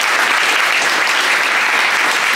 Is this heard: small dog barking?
no